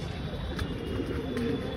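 Red Siraji pigeons coo softly in a loft, low, faint burbling calls heard over a steady background rumble for under two seconds.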